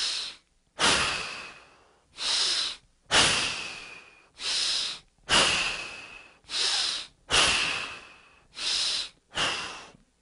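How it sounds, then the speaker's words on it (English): A person takes a series of deep breaths close by, about eight long, steady inhale-exhale cycles in an even rhythm with brief pauses between them and no talking. "Inhale now naturally."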